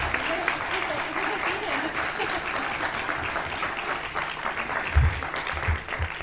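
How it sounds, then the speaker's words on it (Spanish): Audience applause at a talk, a steady wash of clapping that fills the clip, with a few louder claps near the end and some faint voices underneath. "Continuamos. Un aplauso"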